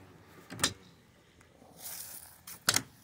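An ambulance's main door is worked open, giving a short mechanical clunk, a rushing scrape as it slides, then a second louder latch-like clack at the end, close by and otherwise quiet.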